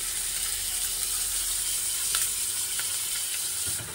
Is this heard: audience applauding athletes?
no